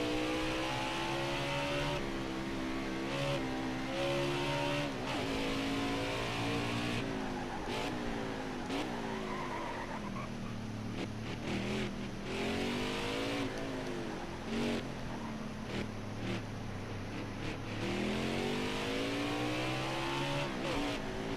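Race car engine in NASCAR Heat 5 at the Indianapolis Roval, a continuous loud engine note rising and falling through repeated shifts and revs for over twenty seconds, with no talking.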